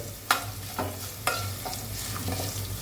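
Scraping and stirring in a pan over a low steady hum, with a few sharp clanks of a utensil against metal and a soft background sizzle.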